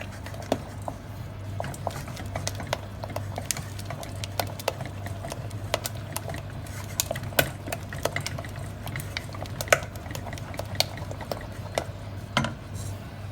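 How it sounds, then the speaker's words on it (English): A spoon stirs béchamel sauce in a pan, making a steady wet patter with irregular soft clicks and scrapes over a low background hum. "You just got to keep stirring, get rid of all those lumps."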